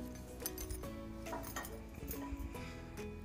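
A pan is set on the stove while cooking roti upma, giving a few light metallic clinks and knocks at close range, with a faint resonant ring and no talk.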